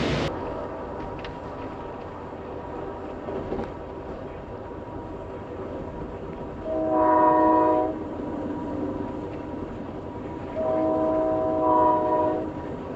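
An Amtrak passenger train rumbles steadily, and two long, loud horn blasts sound in the middle and near the end.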